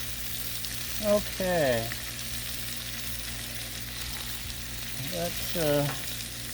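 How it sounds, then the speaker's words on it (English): Bacon and vegetables frying on a hot griddle, a steady close sizzle with spattering crackle throughout, while someone talks briefly over it. "Bacon splatter."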